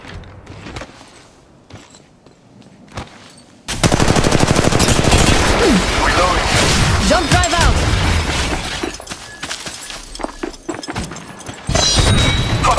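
Enemy gunfire in the battle royale shooter Apex Legends Mobile, starting with scattered shots, then a long loud barrage of overlapping rapid fire with cracking, shattering impacts, easing briefly before another heavy burst.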